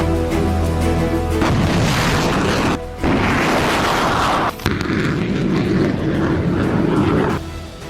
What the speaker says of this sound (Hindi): इस 1 मिनट के वीडियो में ज़ेलेंस्की ने अमेरिका से मिली M777 तोप से लेकर हिमार्स के रॉकेट हमले दिखाए हैं।